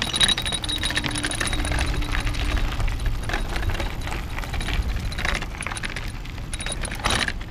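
Loose parts on an EZ Pedaler T350 electric bike jingle and rattle continuously while riding off-road, a busy metallic clinking close to the microphone.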